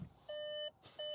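Two electronic warning beeps inside a 2025 Skoda Superb, each a steady high tone with a bright harmonic edge, separated by a short pause; close and fairly loud, no talking.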